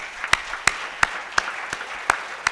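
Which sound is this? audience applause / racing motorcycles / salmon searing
audience applause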